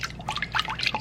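Unsweetened non-dairy milk poured into a Vitamix blender container, a short close liquid splash and trickle lasting about a second.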